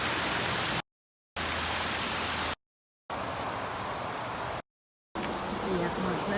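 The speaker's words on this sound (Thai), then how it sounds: "ฝนมันตก" Steady hiss of rain falling on a hike to a waterfall in America, broadband and continuous, broken by several abrupt silent gaps where the sound cuts out.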